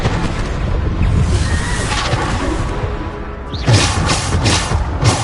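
A Bombarda explosion spell goes off in Hogwarts Legacy, a deep booming blast with a sharp crack, followed by a few more thuds and bursts over a dense, continuous bed of game noise.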